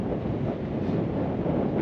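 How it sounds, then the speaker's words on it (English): Strong wind roars and buffets the microphone in a continuous, heavy rumble with no other sounds. "it is very windy"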